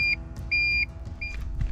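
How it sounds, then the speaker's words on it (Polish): A turn-signal warning beeper fitted to a Kawasaki VN800 Vulcan motorcycle gives three clear electronic beeps in an even rhythm over the bike's low idling rumble. "Z troski o bezpieczeństwo mojego taty założyłem tutaj sygnał dźwiękowy przy włączonych kierunkowskazach."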